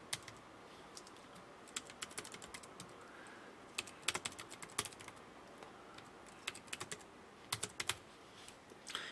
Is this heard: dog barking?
no